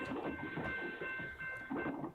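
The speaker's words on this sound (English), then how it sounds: "we've rolled by both of our trains" A freight train rolls past a trackside webcam at Savannah, a steady rumbling clatter of rail cars at moderate distance with a faint tonal whine running through it.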